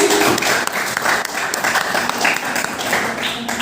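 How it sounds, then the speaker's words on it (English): Students in a middle-school classroom clap for team C during an English quiz competition, a loud close burst of many hands beating unevenly and lasting several seconds, with a brief voice at the start. "Clap for team C."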